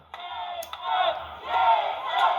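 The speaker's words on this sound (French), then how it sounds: "le monde crie pour Jason, acclamé par la foule" Wrestling crowd at a live event shouting and cheering for Jason, a dense roar of many voices swelling in two loud waves, close and sustained.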